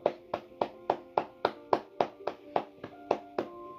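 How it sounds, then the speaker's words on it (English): A dozen steady, evenly spaced claps, fairly close and moderately loud, with no voices over them. "Let's have a round of applause."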